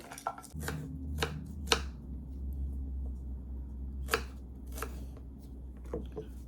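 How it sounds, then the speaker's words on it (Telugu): Garlic being chopped with a knife on a board for an instant brinjal pickle, a series of sharp, close knocks in irregular bursts over a low steady hum. "ఇవి కట్ చేసేసుకుందాం. గార్లిక్"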